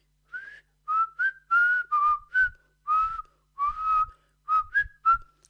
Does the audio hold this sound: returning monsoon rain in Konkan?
no